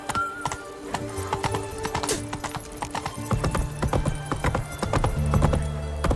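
Horse hoofbeats galloping in The Witcher 3, a steady rapid clip-clop running throughout, growing louder and denser in the second half, with a low musical drone underneath.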